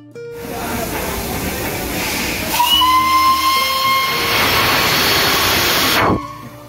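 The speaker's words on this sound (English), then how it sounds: "Where else can you find a small steam engine pulling mini coaches up the steep mountains" Small steam engine of the Darjeeling toy train on its steep mountain line, hissing and rumbling up close before a loud, shrill steam whistle sounds and holds for several seconds, then cuts off sharply.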